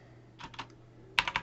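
Short bursts of typing on a computer keyboard while a Docker run command is entered, a few quiet keystrokes followed by a louder, quick cluster of key clicks, close and alone.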